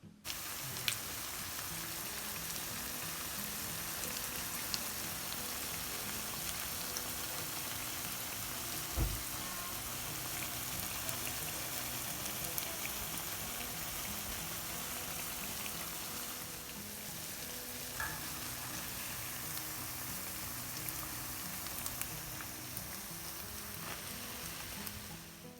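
Salt mackerel fritters frying in oil in a Jamaican-style kitchen, a steady broadband sizzle that crackles continuously and evenly throughout, with no voices over it.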